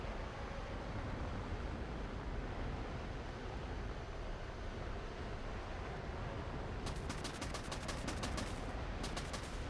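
Rapid automatic gunfire from aircraft in the War Thunder air battles game, a dense continuous roar of engine and wind noise with sharp bursts of cannon fire rattling in the later seconds, loud and without talk.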